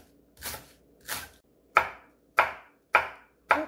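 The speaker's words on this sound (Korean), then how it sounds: "대파 한 뿌리 어서 썰게 해줍니다." Green onion chopped with a knife on a board, six distinct close, crisp chops in a steady rhythm with quiet gaps between.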